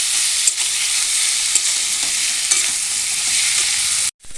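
Taro greens (kochu shak) with a hilsa fish head being stirred in a sizzling pan, a continuous frying hiss punctuated by a few scraping strokes of the spatula, ending abruptly.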